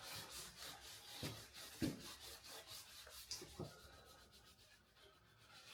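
Soft repetitive rubbing and scrubbing strokes against a wooden surface, close and fairly quiet, with a few sharper knocks in between and no talking.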